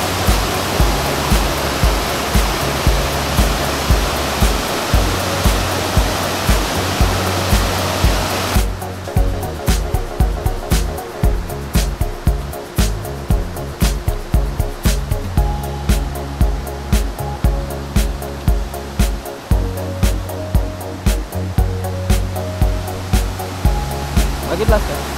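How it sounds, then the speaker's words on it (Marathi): The main fall of Domzara waterfall rushes as a constant broad roar, with a rhythmic musical beat running over it for most of the stretch. "हा मेन धबधबा आहे."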